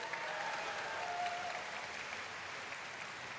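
Audience applause at a community panel during a fan festival in Las Vegas, a sustained, even roar of many hands clapping, fairly distant and steady throughout.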